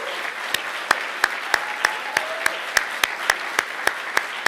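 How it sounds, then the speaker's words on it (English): Applause from a conference audience with sharp periodic claps standing out over a steady wash of clapping, sustained and fairly loud throughout, with no voices over it. "So I'd like a round of applause for the unbelievable effort"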